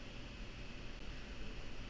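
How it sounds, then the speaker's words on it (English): A computer fan whirs with a steady, broadband hiss, constant and even throughout with no other sounds on top. "That is the computer fan."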